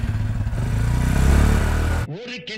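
A motorcycle engine starts and revs loudly with a dense, throbbing mechanical roar for about two seconds, then cuts off abruptly, leaving a few faint, thin sounds at the end.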